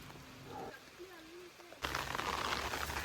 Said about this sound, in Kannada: ಮತ್ತೆ ಮಳೆಯಾಗಿದೆ.